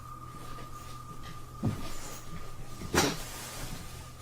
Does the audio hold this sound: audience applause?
no